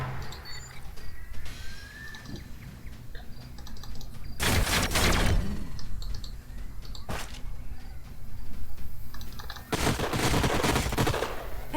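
Sci-fi weapons in the strategy game Age of Wonders: Planetfall fire at enemy units in loud rapid bursts, rattling volleys alternating with quieter electronic battle ambience.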